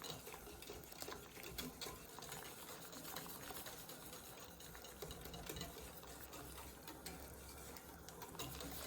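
A spoon stirs teriyaki sauce thickened with cornstarch, working out small lumps, giving quiet, continuous scraping and clinking against the pot with no voices.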